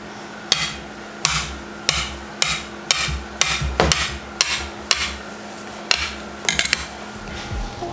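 A knife chops taco dough into pieces with sharp, evenly spaced knocks on a cutting board, about a dozen close, crisp hits in a steady rhythm.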